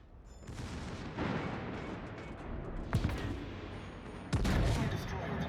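Warship guns firing in the naval video game World of Warships, aboard the Schlieffen: a rumbling background broken by two sharp, booming salvos, the second heavier and followed by a lingering roar.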